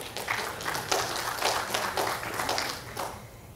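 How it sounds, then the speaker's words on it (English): An audience at a morning plenary session applauds, a steady patter of many hands clapping at moderate distance that continues evenly for a few seconds before starting to thin out. "A round of applause for yourselves"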